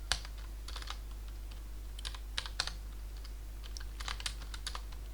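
Continuous typing on a computer keyboard while entering an Apache HTTP server log path on CentOS 9: rapid, close, fairly quiet key clicks in uneven bursts with short pauses, and no talking.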